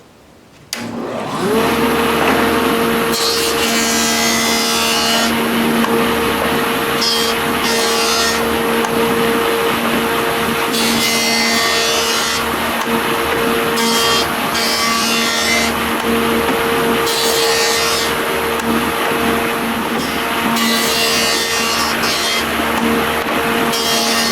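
Rough sawn wood being worked with a hand tool, a continuous loud rasping scrape in repeated strokes alongside a steady motor-like hum, close by, with no voices.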